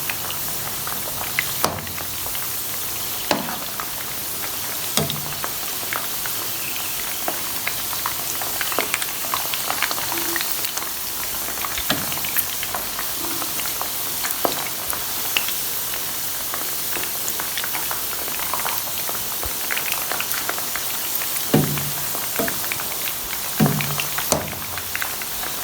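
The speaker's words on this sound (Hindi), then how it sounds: "मीडियम आंच पे फ्राई करने हैं।" Chicken kofta frying in oil over a medium flame, giving a steady, dense crackle and bubbling sizzle with scattered sharper pops, continuous and fairly close, with no voices.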